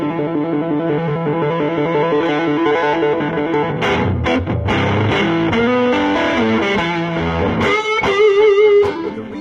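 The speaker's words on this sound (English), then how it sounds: "When you click in the overdrive circuit, it's not the tube screamer sound that you get off of a pedal." Electric guitar with the overdrive circuit engaged on a John Mayer J-MOD 100 amplifier, a loud, full-bodied distorted tone playing sustained chords and a brief lead line throughout, no talk.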